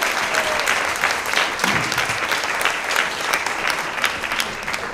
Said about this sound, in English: So a big round of applause to Mr.